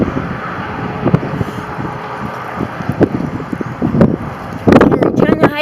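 Strong gusty wind outdoors buffets the microphone in uneven rumbling bursts, with brief rustling and some talk near the end.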